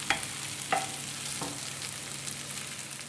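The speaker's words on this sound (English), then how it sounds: "while your potatoes and onions are cooking along, you just want them on a nice gentle heat and you just want to brown them" Potatoes and onions fry gently in a pan over low heat, giving a steady soft sizzle with a few brief clinks of stirring near the start.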